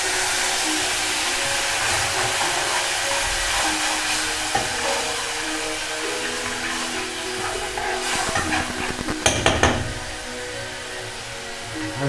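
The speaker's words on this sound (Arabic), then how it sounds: "هنزل اطفي بالكزبرة، هطفي عليهم بسنة الخل" A splash of vinegar hits hot garlic and coriander in a pan for Egyptian fatta with meat, giving a loud, continuous hissing sizzle with a few crackling bursts near the end and no voices.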